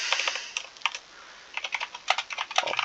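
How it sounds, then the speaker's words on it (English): Fingers type on a computer keyboard in quick bursts of close, crisp clicks, a pause in the middle and then a faster run of keystrokes, with no voice. "so let's type that out"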